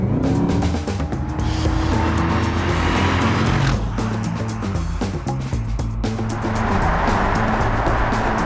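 A Mercedes McLaren SLR engine roars loudly throughout, revving up and shifting through gears with rising and falling pitch and occasional tire noise, heard continuously from close by.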